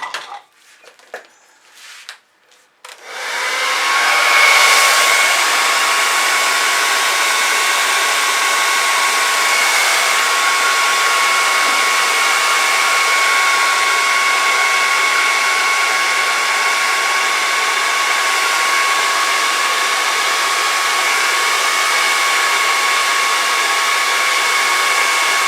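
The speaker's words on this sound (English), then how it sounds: "I'm going to try the blow dryer." A blow dryer switches on after a few seconds of handling noise and then runs loud and steady without a break, aimed at fluid acrylic paint on a pour art canvas.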